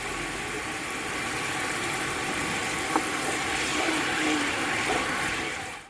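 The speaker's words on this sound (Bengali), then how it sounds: "তো এখন একটু পানি দিয়ে তার সাথে আমরা একটু লেবু রস দিয়ে দিব।" Water and lemon juice pour into a cooking pot over ginger and garlic while spices are being prepared for pulao, a steady close rushing pour that runs unbroken for about six seconds with no talking.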